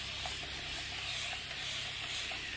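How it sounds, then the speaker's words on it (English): Water is sprayed from a bottle onto a thrifted wooden furniture piece before staining, giving a steady, soft, continuous hiss close by with faint repeated pump clicks and no talk. "I'm going to spray the piece with water."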